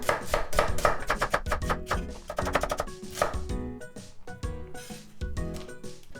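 An onion being cut into thin slices with a knife, a quick run of crisp chops on a board that slows and thins out toward the end, close and clear.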